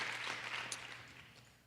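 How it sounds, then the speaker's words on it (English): Applause from a crowd, a dense patter of clapping that fades gradually over a couple of seconds. "Please join us in a round of applause."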